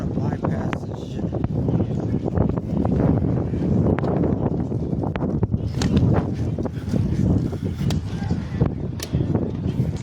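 Wind buffets the microphone outdoors in the fall, a constant rough rumble with gusty bursts while people talk over it.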